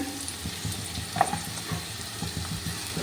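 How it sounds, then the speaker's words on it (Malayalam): Onions sautéing in a pan for a soybean dish, with a steady close sizzle and soft crackle plus a few light stirring scrapes, no talking. "നമുക്ക് ഈ ഉള്ളി നന്നായിട്ട് വഴറ്റി കൊടുക്കാം"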